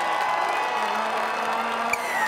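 A stadium crowd at Commonwealth Stadium in Edmonton cheers a penalty try for Canada against Scotland in rugby. The dense, sustained roar of many voices rises and stays at a steady level.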